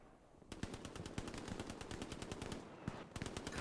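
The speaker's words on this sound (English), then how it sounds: "Perpy mag dumping. He's shooting the dead body." A long magazine dump from an automatic weapon in the World War II shooter game Hell Let Loose: rapid, evenly spaced shots rattling close by, with a short pause before a final few rounds.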